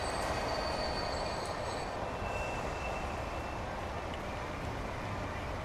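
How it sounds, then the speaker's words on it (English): A train pulls into a station in the video game Transport Fever, a continuous rumbling rolling drone with faint high squealing of wheels near the start, steady and fairly close with no talk. "I want to see one of these swanky trains in here."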